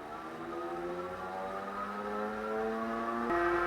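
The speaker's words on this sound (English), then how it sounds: "So now I'm gonna do a second dyno run that goes through the whole range of power." Jansno X50 electric bike motor spinning on a dyno, a steady whine that climbs gradually in pitch and jumps up sharply near the end, loud and close with no talk.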